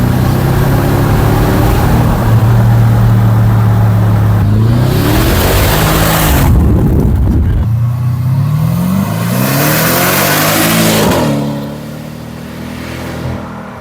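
A Porsche Cayenne Turbo V8 with its muffler deleted, revving hard in race mode, loud and close, with engine pitch climbing and falling through repeated rises before easing off near the end.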